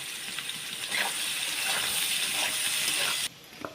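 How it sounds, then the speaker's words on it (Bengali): Potato pieces frying in hot mustard oil in a wok, a steady bright sizzling hiss that holds for over three seconds before cutting off, followed by a few faint clinks. "এবার এর মধ্যে আলুগুলোও দিয়ে দিল, আর আলুগুলো দেওয়ার পরে আলুগুলোকেও সুন্দর করে ভেজে নেবে।"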